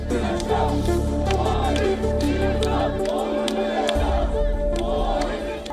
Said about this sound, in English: the crowd stood firm, chanting for justice, democracy and the release of their mayor